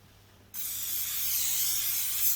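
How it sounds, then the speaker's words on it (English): A single burst of silicone spray onto the threads of a Suzuki KingQuad fuel filter part, a close, steady hiss that starts suddenly and holds for about two seconds. "a bit more silicone spray on the threads, I think."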